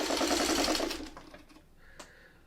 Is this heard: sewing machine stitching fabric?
yes